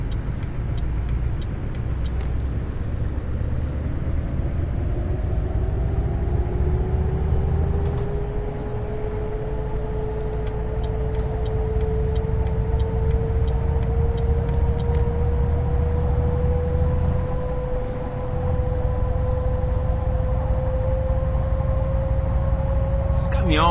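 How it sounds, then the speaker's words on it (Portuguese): A Scania truck in Euro Truck Simulator 2, driven with a G27 steering wheel, rumbles steadily as its engine pitch climbs while accelerating, with brief sharp clicks and a short hiss breaking through. "Os caras mudaram, né, o som do caminhão."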